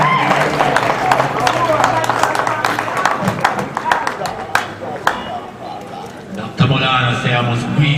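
An audience at the grand opening of an African diaspora business and cultural center applauds a guest, with sustained close clapping from many hands over crowd murmur and a voice speaking near the end.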